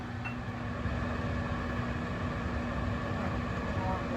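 A microwave oven runs with a steady, even hum and drone, holding a constant level close by, with low talk faintly present in the room.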